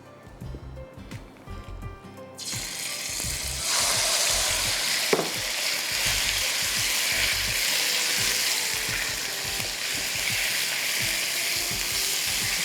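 Chicken breast stir-fries in a pan for mango chicken, a loud steady sizzle that starts partway in and keeps going, with utensils scraping and tapping rhythmically throughout.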